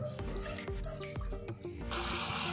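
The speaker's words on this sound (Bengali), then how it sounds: "এবারে এর মধ্যে আমি জল দিয়ে দেবো।" Water is poured into a pan of spiced flat-bean curry, a continuous soft splashing and trickling with faint clinks of the pan, close but fairly quiet.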